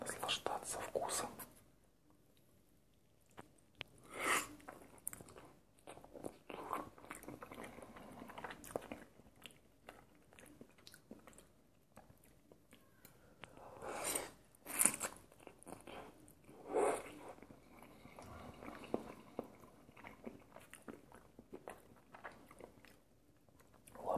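Close-up chewing and crunching of Rollton instant noodles, soft wet bites and crunches in an irregular rhythm, with quiet whispered speech between mouthfuls.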